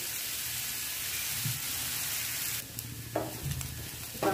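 Chopped onion frying steadily in a pan until golden, with a continuous soft sizzle and a few spatula scrapes and stirs near the end.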